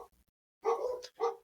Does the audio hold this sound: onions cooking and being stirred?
no